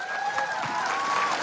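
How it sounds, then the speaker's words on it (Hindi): An audience in Rajkot claps for an elderly woman, a brief burst of brisk, overlapping applause filling a hall, steady and moderately loud. "ताली तो बजा दो अम्मा के लिए"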